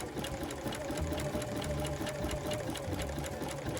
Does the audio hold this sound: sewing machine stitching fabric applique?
yes